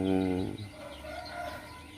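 A loud, harmonic bird call opens sharply, followed by softer, scattered clucking from nearby chickens and turkeys.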